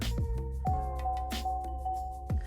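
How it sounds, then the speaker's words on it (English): Slow GM car warning chime ringing inside a used car, a gentle repeating ding every half second or so with lingering tones, fairly close and alone. "one thing with GM, the chimes are so slow"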